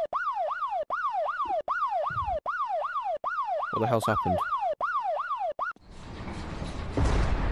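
Wailing police car siren inside the VR game Bonelab, loud and close, cycling in steady rising-and-falling sweeps, cut off near the end by rushing noise; someone speaks briefly over it.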